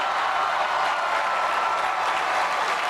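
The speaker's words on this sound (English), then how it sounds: "Give them a round of applause." A crowd gives a round of applause for players who brought a first national championship, a dense, sustained clapping roar at an even level throughout with no voices on top.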